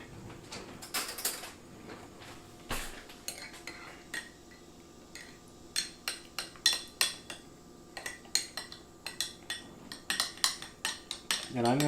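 Bourbon barbecue sauce stirred with a utensil in a container: irregular scraping and clinking strokes that grow busier and more rhythmic toward the end, close by and moderately loud.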